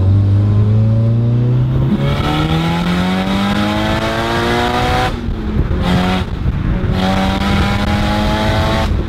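A turbocharged 325 kW Nissan S14 pulls hard on boost, its loud engine note climbing in rising sweeps through gears, with brief lifts where the wastegate chatters before the revs build again.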